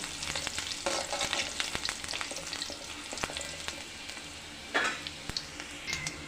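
Ingredients for sherva frying in a pan, a soft continuous sizzle with intermittent stirring scrapes and taps, fairly quiet and close, with no talk.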